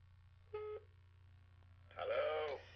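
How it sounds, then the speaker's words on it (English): An AT&T video phone gives two short electronic dialing tones, a brief steady beep followed by a brighter warbling tone a second later, quiet and close with a low hum underneath. "AT&T video phone."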